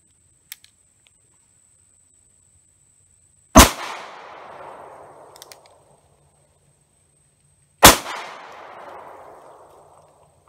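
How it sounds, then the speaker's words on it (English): A .38 Special Rohm RG 17 derringer fires two sharp, loud shots about four seconds apart outdoors, each followed by a fading echo, with only faint small clicks between them. "Alright, let's shoot her."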